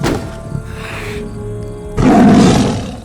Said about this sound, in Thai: เสียงคำรามของเสือดังก้องขึ้นภายในกระท่อม